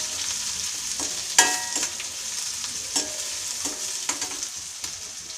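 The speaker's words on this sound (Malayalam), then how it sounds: "ചോപ്പ് ചെയ്ത് വെച്ചിരിക്കുന്ന ഒരു സവാള, ഒരു പച്ചമുളക്, ഇതൊന്ന് സോട്ട് ചെയ്തെടുക്കും." Chopped onion and green chilli sauté in a pan for prawn fry, with a steady sizzle under irregular stirring scrapes and clacks of a spatula, close and fairly quiet.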